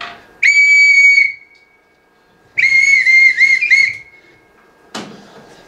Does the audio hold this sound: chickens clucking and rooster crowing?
no